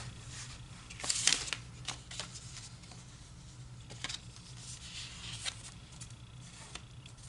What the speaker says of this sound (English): Now I'm just going to cut it in half.